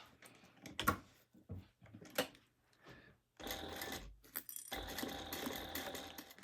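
A sewing machine stitches legs onto a crossbody bag in two long, rapid whirring runs near the end, after several short bursts of handling and clicks separated by silence.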